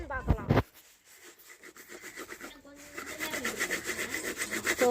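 A cooking pot is scrubbed and washed outdoors, a rough rasping scrape that builds into steady close rubbing, with brief clatter at the start and a voice talking faintly.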